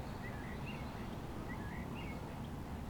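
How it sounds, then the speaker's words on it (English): Faint bird chirps and short song phrases come and go over a steady low background rumble, distant and soft, at Reculver Towers and Roman Fort. "Can you hear them birds?"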